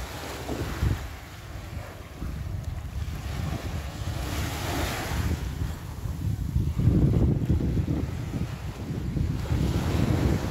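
Rough sea waves surging and breaking around a boat, a continuous rushing wash of water with wind buffeting the microphone, rising and falling in swells.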